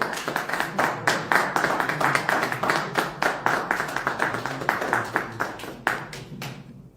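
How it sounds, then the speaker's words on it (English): An audience at an investment meet-and-greet event in Toronto welcomes a speaker with loud, rapid rhythmic clapping, many hands beating in a rough pulse that keeps going and then tapers away at the end. "with a thunderous applause, please let's welcome Dr. Stephen Akintayo"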